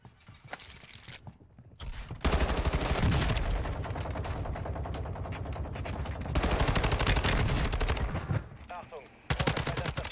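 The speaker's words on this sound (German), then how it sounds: "Digga, du musst jetzt nicht durchgehend schießen." Sustained automatic gunfire in the mobile shooter Warzone Mobile, loud rapid bursts running almost continuously with only brief pauses between strings of shots.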